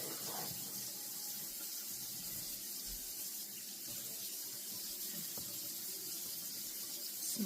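Tap water runs steadily into a kitchen sink to wet a spatula while gluten-free white bread is being made: a constant hissing splash, fairly quiet and close, with a few faint clinks and no talking.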